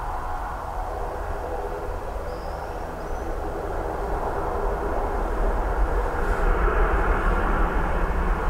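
A Ryanair airliner arriving from London Luton at Dublin Airport, a steady broad engine roar that swells gradually louder toward the end, with no speech over it.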